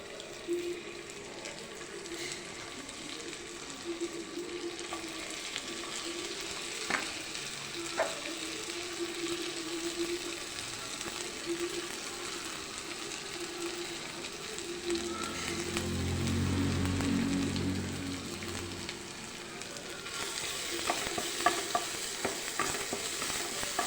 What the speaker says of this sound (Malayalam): ഈ പച്ചമുളകും ഇഞ്ചിയും കൂടി നമ്മൾ ചതച്ച് വെച്ചിട്ടുണ്ടല്ലോ ഇത് അതിനകത്തോട്ട് ഇട്ടിട്ട് ഒന്ന് മൂപ്പിച്ചെടുക്കാൻ വേണ്ടിയിട്ടാണേ